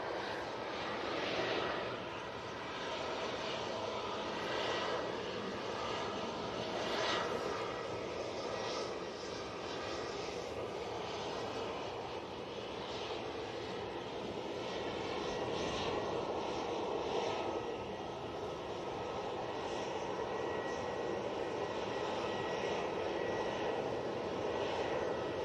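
TUI airliner rolling for takeoff at Manchester Airport, a sustained jet-engine roar heard from a distance, swelling and easing slightly over a long, continuous run.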